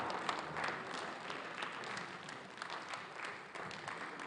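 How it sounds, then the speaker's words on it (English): An audience at an award presentation applauds for Yewande Bada, a steady, fairly faint wash of many hands clapping that continues evenly without talk. "Please, a resounding applause for the Yewande Bada."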